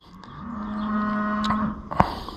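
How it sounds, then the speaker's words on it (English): A cow on a farm lets out one long, loud moo, a steady low drawn-out call lasting over a second, with a few clicks and knocks around it and no talk. "which apparently that cow is very concerned about because it won't be quiet"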